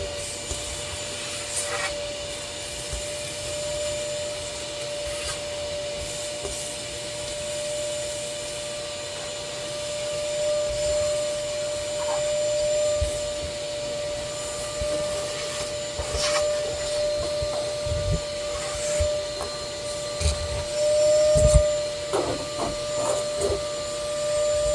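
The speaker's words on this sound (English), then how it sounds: "take and empty out the vacuum cleaner." A vacuum cleaner runs steadily with a constant whining motor hum, close and continuous, with occasional rubbing and knocking noises in a garage during work on a 1978 C10 truck.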